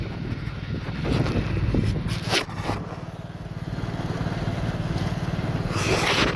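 A motorcycle engine drones steadily up close with wind rushing past the microphone, the revving rising and falling slightly as it rides along.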